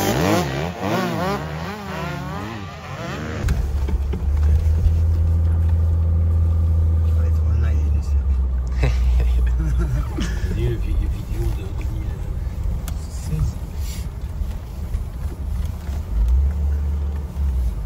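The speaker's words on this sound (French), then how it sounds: "Donc là, je me déplace en 4x4 et je peux aller partout dans les bois pour suivre la course" A 4x4 off-road vehicle drives through woods following a motorcycle race, its engine rumbling steadily and loudly close by, with other motor noise in the background throughout.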